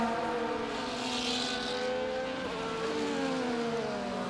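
Formula 1 race cars in the racing game F1 24 whine at high revs in a continuous, layered engine drone, pitch sliding up and down as they battle through a corner.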